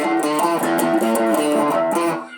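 Main electric guitar riff, a driving, lightly distorted strummed pattern played steadily and loudly on its own for about two seconds before ringing out.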